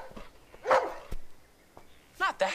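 A dog barks a few sharp times close by, one bark early and a quick pair near the end, with quiet gaps between.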